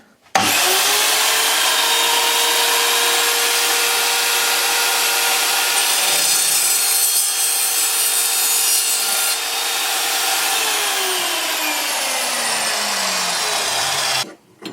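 A battery-powered saw cuts steadily through wood for a bike handlebar, one loud continuous rasping buzz lasting about fourteen seconds before stopping abruptly.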